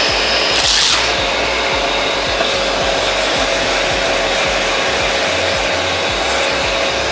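A hand sanding block scrubs across polyester primer on a 1971 Camaro body, loud and close, with steady rhythmic rasping strokes repeating throughout.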